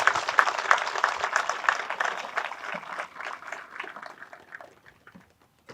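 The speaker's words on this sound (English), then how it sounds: "if you'll give them a round of applause" Applause from the audience at a public safety recognition and memorial service: many hands clapping in a dense, lively burst that gradually thins out and fades to silence by the end.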